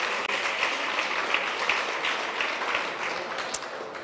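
Audience at a green social summit gives a short round of applause, a dense, even patter of clapping throughout, moderately loud and without voices on top.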